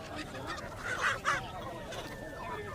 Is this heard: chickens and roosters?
yes